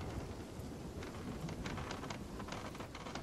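A steady wash of rain with a low thunder rumble fills a stormy sea scene in the video game Sea of Thieves, fairly faint and continuous with no talk.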